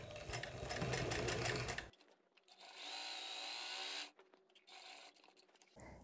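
A sewing machine stitches a mitred fabric corner in two short runs: a close, steady mechanical whir for about two seconds, a pause, then a second burst of stitching before stopping.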